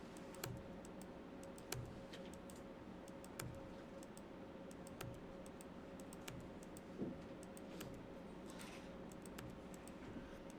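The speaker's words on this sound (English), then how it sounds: "I'm just going to type in a 1 for a bunch of stuff here." Sparse, quiet keystrokes on a computer keyboard, a single key tapped repeatedly at irregular intervals over a low steady hum.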